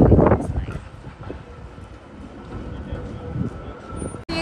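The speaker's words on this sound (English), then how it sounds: "This is the old tram and that's how it looks like." An old tram rumbles past on a Helsinki street, its heavy rolling noise loudest at first and then fading, with wind buffeting the microphone.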